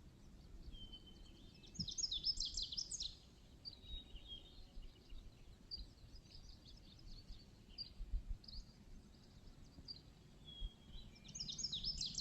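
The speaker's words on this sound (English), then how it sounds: "I hope you can hear the birds chirping." Birds chirping in a hillside forest as fog rolls over a ridge, several faint, distant bursts of high twittering over a low background rumble.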